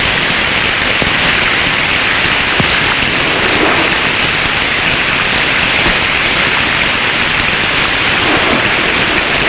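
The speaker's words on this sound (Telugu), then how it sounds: "వర్షం వచ్చేలా ఉంది కదా" Steady rain falls outdoors near a park, a dense, even hiss with scattered drop impacts and a faint low rumble, loud and continuous with no talk.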